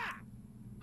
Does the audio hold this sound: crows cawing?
yes